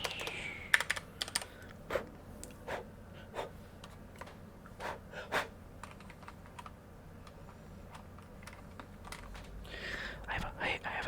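Fingers tap steadily on a computer keyboard in a quiet library roleplay setting, crisp close key clicks in irregular bursts, with soft whispering in between.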